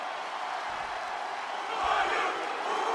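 Crowd cheering from the WWE 2K26 wrestling video game, a steady arena roar that swells louder in the second half, with no talk over it.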